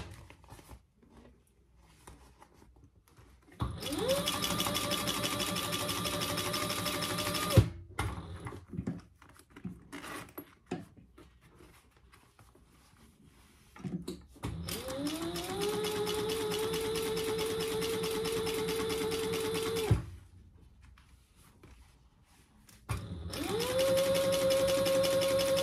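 A sewing machine top stitches a fabric wristlet in three sustained runs of steady, rapid needle chatter, each rising quickly to speed and stopping abruptly, with quiet pauses between them.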